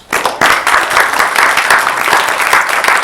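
Audience applause at a school board recognition of a teacher, a dense burst of clapping from a room full of people that starts sharply and holds steady and loud throughout.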